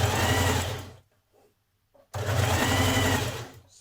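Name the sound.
sewing machine stitching the hem on a dress flounce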